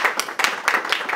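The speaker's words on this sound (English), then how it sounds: "so I think he deserves another clap." Audience clapping at a local history talk, a short burst of several hands clapping unevenly at close range, fairly loud, with no talk over it.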